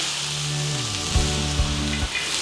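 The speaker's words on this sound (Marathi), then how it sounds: "तव्यामध्ये तेल टाकले, ते गरम झाले. त्याच्यामध्ये आपण सगळ्या भाज्या टाकून एकत्र हे करू" Carrots, capsicum, peas and tomatoes sizzle steadily in hot oil on a griddle pan, a continuous close frying hiss with a few soft stirring knocks and a low hum underneath.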